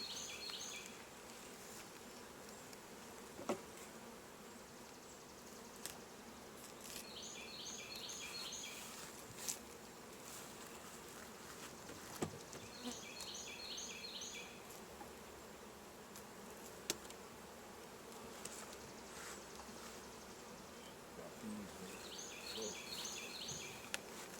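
Honey bees buzz steadily and faintly around an open hive during an inspection and honey harvest, a continuous drone with occasional soft knocks and clicks of equipment.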